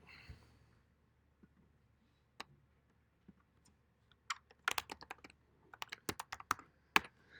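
Code typed on a computer keyboard in a lecture room, sparse key clicks at first that build into quick bursts of clattering keystrokes, close and with no talking.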